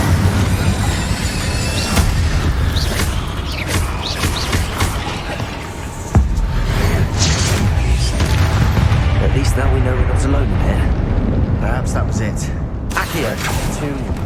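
The Incendio fire spell is cast in Hogwarts Legacy, producing booming, whooshing bursts of flame that repeat among the wider combat noise while voices talk throughout.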